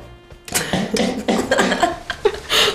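A trained penguin coughs on command in a studio, producing several loud, close, raspy bursts in quick succession after a brief quiet start.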